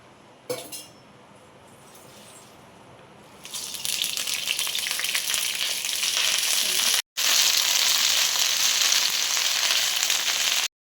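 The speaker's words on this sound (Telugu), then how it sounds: "ఇప్పుడు దీంట్లోకి కొంచెం ఆయిల్ వేసుకొని కరివేపాకు వేయించుకోండి" Curry leaves crackle and sizzle loudly in hot oil after a faint clink, the frying hiss continuing steadily with a momentary break.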